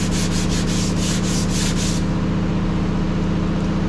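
Hand-sanding Bondo body filler over a car dent gives rapid, rhythmic back-and-forth scraping strokes at close range, which stop partway through and leave a steady low hum.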